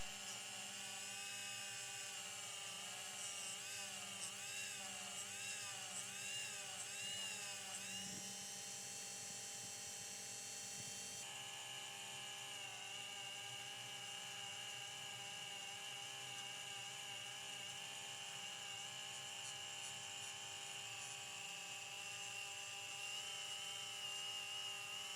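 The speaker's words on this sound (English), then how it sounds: "I used a little bit of silver polish and a polishing wheel on my Dremel" A Dremel rotary tool spins a polishing wheel with silver polish against a metal car part, giving a continuous high-pitched whine with wavering pitch and a shift partway through, close and steady with no talk.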